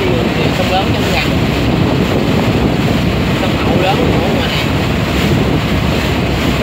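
River waves slap around a boat in Ca Mau, a loud continuous wash of water and rushing wind buffeting the microphone, steady throughout with no clear voices.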